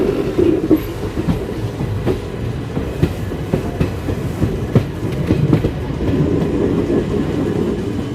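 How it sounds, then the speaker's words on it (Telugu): The VSG-SHM 18048 Express train rolling into Castle Rock station, heard from on board: a continuous rumble with steady clickety-clack wheel beats and occasional sharp clanks. "మన ట్రైన్ అయితే స్టేషన్లోకి ఎంటర్"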